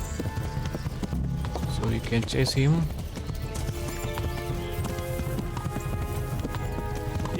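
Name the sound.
horse hooves in video game Kingdom Come Deliverance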